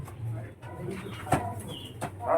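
Lotan pigeons, some white, coo from in and around a cage: soft, low, throaty calls repeating steadily at close range over a faint background rustle.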